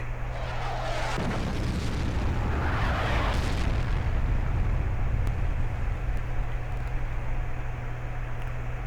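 A Hummel artillery gun firing in World of Tanks lands as a single deep boom about a second in, followed by a loud rumbling tail and sustained low noise, with no talk.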